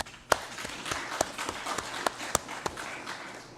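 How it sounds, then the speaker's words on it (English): Sparse, quiet applause in a legislative chamber session, a handful of distinct, separate claps scattered unevenly rather than a full ovation, fairly distant and soft. "Let us give him a round of applause"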